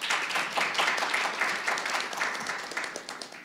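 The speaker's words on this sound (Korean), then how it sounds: "매번 박수 쳐주셔도 무방합니다" An audience at a financial industry forum applauds as a panel member is introduced, a dense, steady wash of many hands clapping, moderately loud and slowly tapering, with no speech over it.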